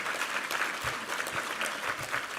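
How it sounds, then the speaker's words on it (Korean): A church congregation claps steadily and fairly quietly during a Sunday service, the applause sustained and even throughout. "우리 하나님께 감사와 영광의 박수 올려드리겠습니다"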